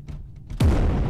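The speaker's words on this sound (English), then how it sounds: "Your arm has been injured by the explosion." Loud explosion from the Space Hulk: Deathwing video game, bursting suddenly after quieter ambient game sound and sustaining a heavy low rumbling roar with a falling boom.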